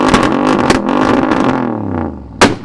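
A modified Mercedes ML63 with a 6.2-litre V8 revs hard, its loud, close roar swelling and dropping away, then a final sharp blip near the end.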